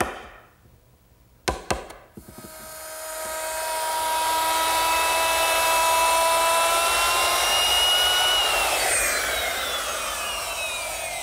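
A router spins up with a whining tone after a couple of sharp clicks, then cuts into wood for a loud, sustained, high-pitched screaming run close by.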